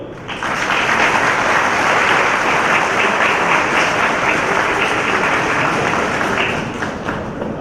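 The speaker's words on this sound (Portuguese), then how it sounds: "Vamos aplaudi-la." An auditorium audience applauds a tax auditor's lecture, a loud, dense and sustained wash of clapping that holds evenly throughout and fades slightly at the very end.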